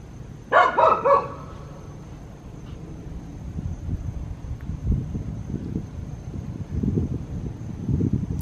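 A dog barks three times in quick succession nearby, then only soft wind and faint outdoor noise remain.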